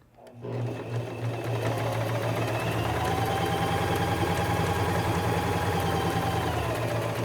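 A Singer Simple 2263 sewing machine runs in one steady, fast, continuous stitching whir after a brief quiet start, close and loud with no talking.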